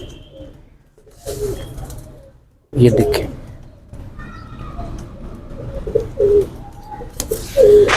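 Ferozpuri pigeons coo in a cage, a close series of low, throaty coos repeating in bursts, with someone talking in between and over them.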